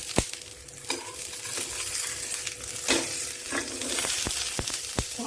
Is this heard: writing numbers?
no